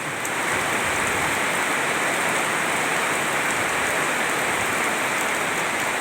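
Heavy rain pours steadily and splashes onto surfaces outdoors, a dense, even hiss of close drops with no pauses over the whole stretch.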